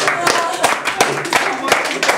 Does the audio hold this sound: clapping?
yes